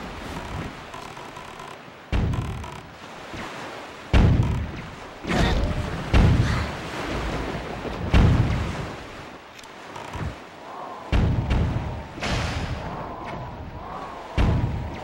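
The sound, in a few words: ship cannon fire in video game Zelda: The Wind Waker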